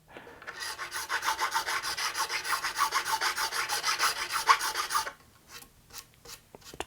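A guitar fret on an oak guitar build being filed to recrown it, a steady run of close, rhythmic rasping strokes lasting several seconds, then a few lighter scrapes.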